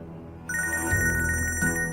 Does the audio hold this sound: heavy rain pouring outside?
no